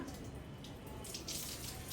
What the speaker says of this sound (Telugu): నీళ్ళు పారబోస్తున్నావా